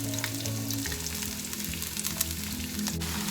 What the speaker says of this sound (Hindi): इसको तेज आंच पे हम फ्राई कर लेंगे वेजिटेबल्स को